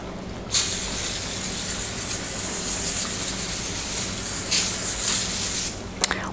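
Easy-Off oven cleaner hisses onto painted wood in a single long, loud, close spray of about five seconds, with brief bursts near the end and a faint pause between.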